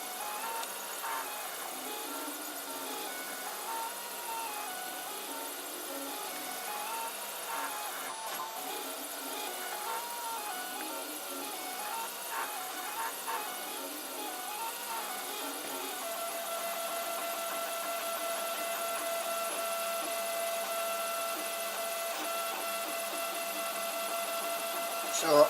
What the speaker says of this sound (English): I'll let you watch the beginning of this print. Now I do ask for skirts on this. That's just merely to get the filament flowing.